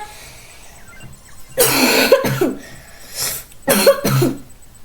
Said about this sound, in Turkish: öksürüğüm geldi de